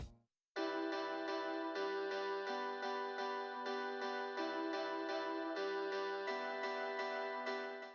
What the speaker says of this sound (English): I pulled up the Strat JC120 Guitar 2 out of Omnisphere and played a chord progression